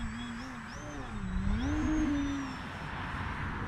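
Durafly Tundra 51-inch RC model airplane flying and climbing with flaps, a steady motor whine that rises in pitch and swells louder mid-pass before easing off, heard from a moderate distance over outdoor background noise.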